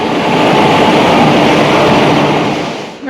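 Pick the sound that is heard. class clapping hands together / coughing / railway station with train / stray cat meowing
railway station with train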